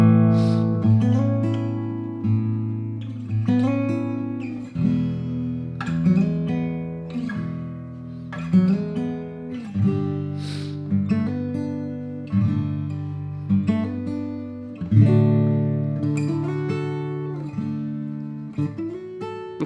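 Acoustic guitar finger-picking bluesy chords with a simple added extension, a repeating phrase of plucked notes and ringing chords played solo and up close.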